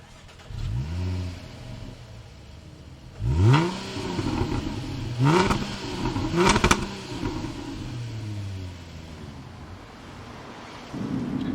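A 2012 Jaguar XF Sport with a 3.0 supercharged V6 drives past, its engine rising and falling through several revving pulls, with gear-like sweeps and a steady road roar, fairly loud and close, with no voices.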